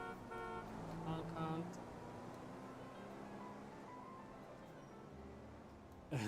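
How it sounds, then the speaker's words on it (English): A car horn honks in a video game during a roleplay session. A sustained, tonal blare opens the moment, then tails off under ongoing talk, and a short burst returns at the very end. "Honk"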